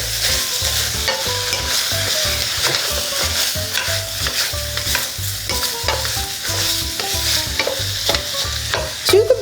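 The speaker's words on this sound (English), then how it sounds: "Let me grab my meat chopper here. These things work awesome for breaking up ground meat" Ground Italian sausage sizzling in a pan while a plastic meat chopper breaks it up, giving repeated scraping, clacking strokes in a steady rhythm over a constant frying hiss, close and fairly loud with no talking.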